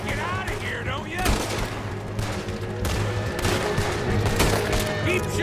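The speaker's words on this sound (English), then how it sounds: "Keep shooting! Don't give up on me now!" Rapid gunfire in Red Dead Redemption 2, with repeated sharp shots and bursts cracking over a steady low rumble, loud and close; voices shout in the background between the shots.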